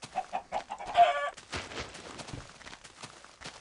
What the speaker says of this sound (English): yes, it is a chicken, not a duck, because it lays chicken eggs for you to eat